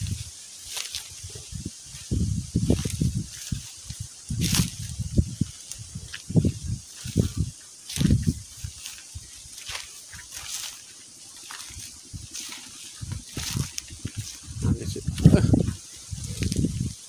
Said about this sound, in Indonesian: ini agak berisik ya, soalnya ini saya saya berada di atasnya dan anginnya sangat gede sekali di sini